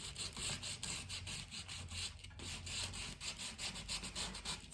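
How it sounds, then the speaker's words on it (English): Sandpaper of 120 grit rubs back and forth along the edge of a thrifted wooden breadbox in a steady, close rhythm of gentle strokes, with no talking. "So I'm gonna very gently start to sand the edge."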